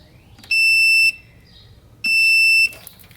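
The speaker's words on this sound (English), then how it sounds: "this multimeter with continuity buzzer" Two sharp electronic beeps from a multimeter's continuity buzzer while testing fuses, each a loud steady high tone lasting about half a second, separated by a short quiet gap with faint background hum.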